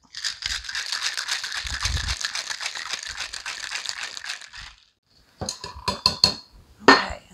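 A cocktail shaker packed with ice and tequila is shaken hard in a steady rapid rattling rhythm for about five seconds, then a pause followed by a few sharp clinks and knocks as it is handled.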